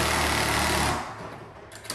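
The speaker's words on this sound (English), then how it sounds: "going through and screwing in the hinge screws" Cordless drill driving screws into door hinges in an old house bedroom, a close, loud buzzing whir for about a second that stops abruptly, followed by quieter room noise.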